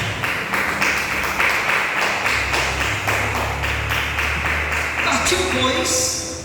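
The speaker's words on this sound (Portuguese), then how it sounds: "Aplauda ele bem forte." A church congregation breaks into strong, dense clapping throughout, loud and sustained, with a shift in tone toward the close.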